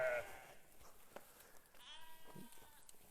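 Sheep on a holistic-grazing farm bleat faintly in the open, a few brief calls rising over quiet outdoor background.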